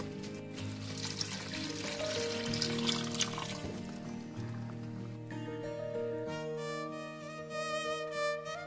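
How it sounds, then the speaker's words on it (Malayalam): Coconut milk poured into a pot of pineapple payasam gives a soft, continuous liquid pour and trickle, set under steady background music throughout. "ഇനി ഇതിലേക്ക് തേങ്ങാപ്പാൽ ഒഴിച്ചു കൊടുക്കുക."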